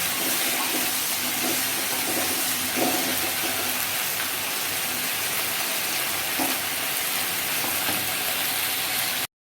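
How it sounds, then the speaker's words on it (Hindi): Okra being fried in a pan for masala bhindi, a loud, dense continuous sizzle with faint scraping stirs throughout, no talking. "भिंडी को डालकर इसको अच्छे से भून लेंगे।"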